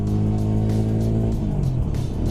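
A Benelli RKF 125cc motorcycle's engine and exhaust hum steadily while riding, a close, continuous low drone with fairly even throttle and no talk.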